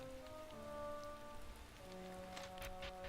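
Heavy downpour in the heavy-metal adventure video game Metal as Phuk, a steady dense hiss of rain falling on surfaces, continuous throughout with soft sustained tones underneath and no voices.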